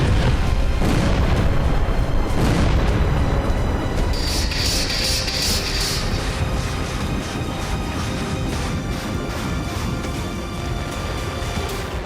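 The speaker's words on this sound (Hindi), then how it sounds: "हर तरफ जोरदार धमाके, आग का भयावह गुबार आसमान छूता नजर आया।" Loud, continuous booming wartime explosions in Ukraine rumble and crackle for the whole stretch, with a burst of sharp blasts and debris-like clatter partway through.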